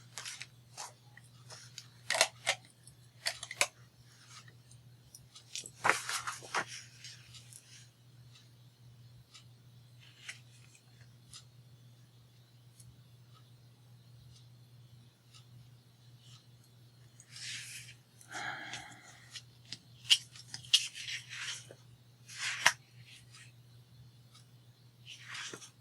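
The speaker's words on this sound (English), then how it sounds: "we're going to cut this" Cutting craft material for a Christmas project: scattered crisp snips and rustles come close by in two bursts, separated by a long quiet gap with a low steady hum underneath.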